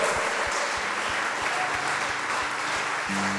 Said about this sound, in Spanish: ¿Quiere aplaudirle? Aplaudirle.